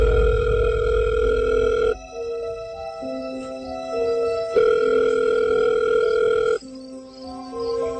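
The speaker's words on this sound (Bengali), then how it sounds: "তিনি তখন আরিফকে ফোন করেন।" An electronic phone ringback tone plays in repeating tonal bursts separated by short gaps, loud and close, with no voices.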